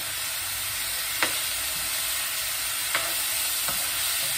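Chicken pieces frying in a pan for a Filipino chicken curry, giving a steady broadband sizzle with a few sharp clicks of stirring scattered through, close and continuous with no talking.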